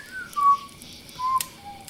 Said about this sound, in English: I might just whistle